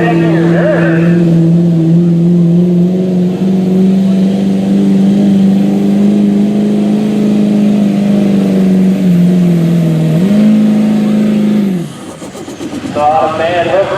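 A diesel truck at a tractor-pull competition roars with a loud, sustained engine drone for about ten seconds, pitch dipping briefly as it changes gear before cutting off near the end, with an announcer talking over it.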